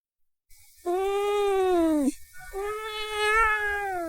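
A cat gives two long, drawn-out meows close by, the first steady and sliding down at the end, the second wavering, with nothing else heard around them.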